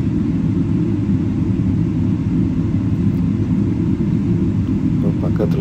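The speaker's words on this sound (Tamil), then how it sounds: "ஸோ நம்ம இப்போ லேண்டிங் ரன்வே கிராஸ் பண்ணி டேக் ஆஃப் ரன்வேக்கு போயிட்டுருக்கோம்." Steady low cabin rumble of an Emirates Boeing airliner taxiing across a runway toward take-off at Dubai, constant and loud throughout, with faint talk near the end.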